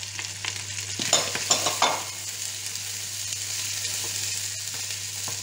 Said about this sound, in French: et on remue, on décolle sur les côtés